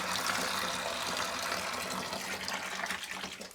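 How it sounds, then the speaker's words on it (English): Apple juice pours from a pierced container into a vessel for homemade cider, giving a steady, close liquid gush that runs on without a pause and thins slightly near the end. "when you're pouring in your apple juice, it's best to pierce somewhere in it as well, because it just glugs"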